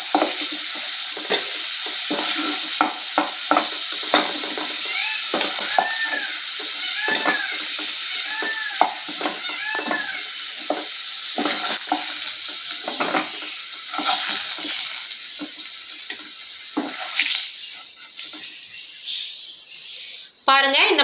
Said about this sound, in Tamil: இந்த மாதிரி எல்லாத்தையும் பொரிச்சு தனியாக எடுத்து வச்சுக்கிறலாம்